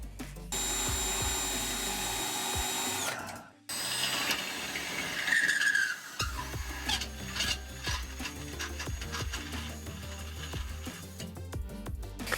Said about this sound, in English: I need to drill a hole on the passenger side